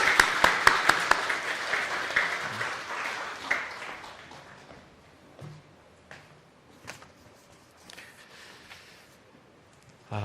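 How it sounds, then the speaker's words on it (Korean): A church congregation at a Christmas Day service breaks into dense applause. It fades over a few seconds into sparse claps, faint shuffling and room noise, heard without speech. "다시 한번 박수해 주시기 바랍니다"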